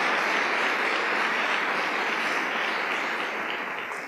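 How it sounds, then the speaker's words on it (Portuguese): Audience clapping during an evening church devotional service, a steady sustained round of applause that stays full and even before easing off slightly at the end, with no talking over it. "nós vamos aplaudir o Ney também"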